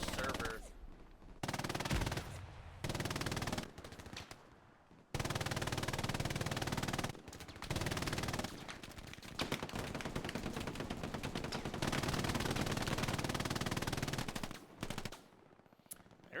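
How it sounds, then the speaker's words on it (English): In the online shooter Hell Let Loose, a machine gun fires in long, sustained bursts broken by short pauses, loud and dense, with other gunfire around it. "They were just letting that MG rip for all."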